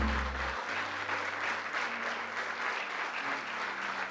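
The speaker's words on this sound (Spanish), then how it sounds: "Vamos a darle un fuerte aplauso al Señor en esta noche." A church congregation applauds during an evening service with a steady wash of many hands clapping. Low held tones, likely from an instrument or sound system, sit underneath, and a brief thump comes at the start.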